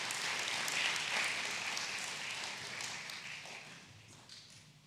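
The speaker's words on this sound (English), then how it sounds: "Those claps are very energizing and very, very inspiring." Congregation clapping after a prayer during a church visit in Kenya, a dense wash of hands that fades gradually, heard somewhat distant and soft.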